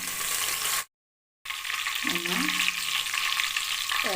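Cinnamon, cloves and whole spices frying in hot ghee for quail biryani, a steady loud sizzle broken by a brief silent gap, then resuming with stirring scrapes close by.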